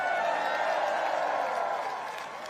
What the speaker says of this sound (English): you can clap for him, man